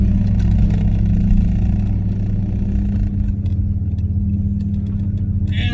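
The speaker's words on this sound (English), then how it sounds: "So I'm driving the FD for now." A Mazda RX-7 FD drives along a tight public road on a hot day, its engine a loud, steady, close drone throughout with light clatter.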